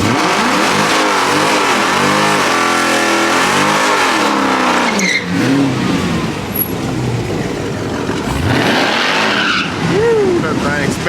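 A rental race car with a catastrophic failure spins its wheels on a track, loud engine revving and wavering tire squeal, with voices speaking over it.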